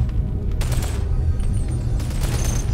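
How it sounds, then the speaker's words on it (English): Rapid enemy gunfire in the VR shooter Boneworks crackles continuously at close range, dense overlapping shots forming a steady barrage with sharper bursts near the start and end. "Where are they shooting from now?"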